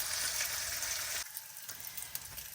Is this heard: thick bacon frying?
yes